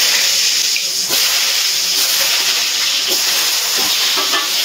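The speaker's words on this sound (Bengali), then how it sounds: "এবার ডুমো ডুমো করে কেটে রাখা আলুগুলো ভেজে নেব।" Diced potatoes coated with salt and turmeric frying in hot oil, making a loud, steady, close sizzling hiss that continues without pause, with a few faint knocks beneath.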